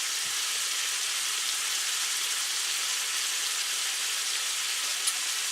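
Mushrooms cooking in a pan over turned-up heat inside a van, giving a steady, even, hissing sizzle that stays close and constant throughout, with no talking.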